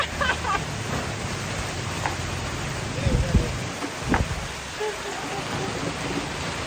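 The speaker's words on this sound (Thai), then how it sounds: "ฝนตกครับผม" Steady, heavy rain pours down in a dense hiss, with a few low rumbles and faint voices now and then underneath.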